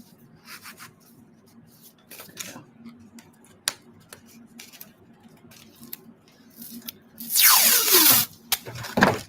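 Masking tape is peeled off its roll with a loud, ripping tear lasting about a second near the end. It follows quieter rubbing and handling noises, with a low background hum throughout.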